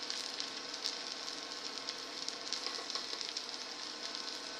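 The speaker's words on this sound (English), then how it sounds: "I'm turning down my heat because my onions are browning." Onions, garlic and ginger paste sizzle softly and continuously in a pan, a faint close crackle with small pops scattered throughout and no voices.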